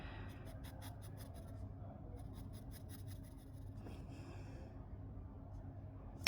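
Pencil scratching out crosses on paper in quick rhythmic bursts of short strokes, a pause, then another run of strokes, close and fairly quiet over a low steady background hum.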